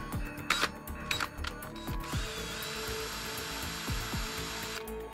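A power drill spins a makeshift buffing wheel inside a tent, giving a steady mechanical whir with faint ratcheting clicks, preceded by a few short clacks and handling sounds, close and fairly quiet.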